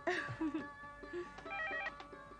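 A telephone rings late at night in a home, a short ringing tone repeating a few times at moderate volume, with faint voices and room noise around it.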